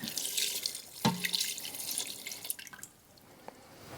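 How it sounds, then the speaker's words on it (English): Stock poured into an Instant Pot for chicken and rice, a soft hissing splash of liquid with a brief clunk, tapering to quiet by the end, no voices. "And pour in the stock."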